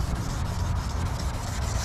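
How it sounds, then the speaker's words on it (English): A sanding disc wet-sands a car headlight with water during a headlight restoration, a steady, close rubbing and scrubbing with a faint side-to-side rhythm and no talk over it. "we're gonna just go ahead and start sanding this"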